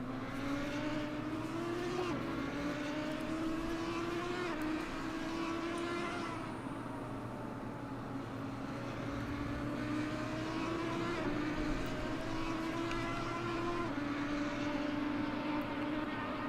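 GT3 race cars circling Zandvoort in a sim racing game, engines droning steadily throughout with rising and falling pitch as they accelerate and shift, several cars overlapping, loud and continuous with no voice.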